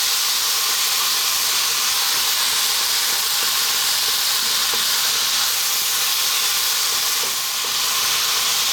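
Kale sautéing with garlic, ginger and soy in an uncovered pan while being stirred, giving a steady, loud sizzle and hiss that continues without a break and with no talk.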